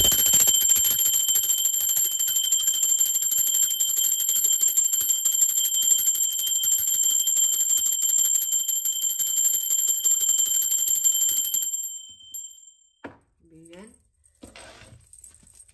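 A small bell rung during a tarot reading gives a sustained, loud, shimmering ring that holds steady for many seconds before cutting off, followed by faint quiet speech.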